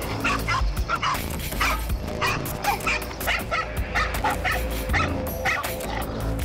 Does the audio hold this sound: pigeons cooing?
no